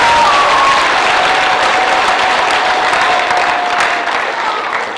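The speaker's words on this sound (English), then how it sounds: "Another big round of applause for Mrs. Acton for the Olcott Center." Large crowd at a school Pink Out celebration applauds Mrs. Acton of the Olcott Center, loud dense continuous clapping with a faint tonal whistle running through it, tapering slightly at the end.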